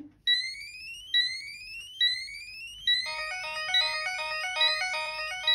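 Puma WiFi alarm system in full alarm: loud repeated rising electronic sweeps, then layered warbling tones that pile up into a continuous, piercing siren-like wail with no talking.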